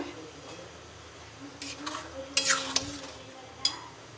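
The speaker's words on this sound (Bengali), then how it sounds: "আমি একবার লেড়ে দেবো" A spoon stirs payesh, a rice pudding of milk and caramelised sugar, in a pot, giving a few soft scrapes and clinks that build to a brief louder cluster over a quiet background.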